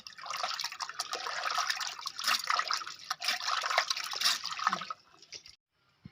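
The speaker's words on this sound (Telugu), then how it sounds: "బాగా 5-6 సార్లు కడగాలండి చేపలు." Chandavalu fish (pomfret) being washed in water for a curry, a steady broadband splashing and trickling like running water in a sink, sustained and fairly close for about five seconds before fading out to quiet, with no talking.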